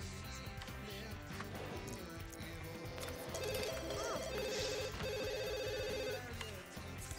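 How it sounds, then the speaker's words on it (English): An in-game telephone rings in The Sims 2, a repeated electronic bell trilling in several bursts over busy background music and game sounds. "Answer the phone."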